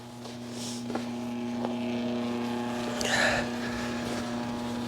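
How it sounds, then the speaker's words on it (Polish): A heat pump runs outdoors on a freezing night, giving a steady low electrical hum with a faint fan whir and a brief swishing rise partway through, moderately quiet and alone. "Pompa ciepła sobie aktualnie pracuje. Zresztą powinno być to nawet y, delikatnie słychać."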